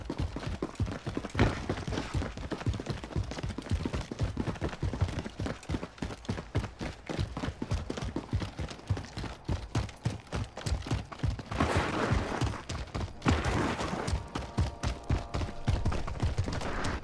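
Rapid shotgun blasts from a fire shotgun in a zombie battle royale game ring out in a dense, continuous volley of close, punchy shots that keep up their rhythm throughout.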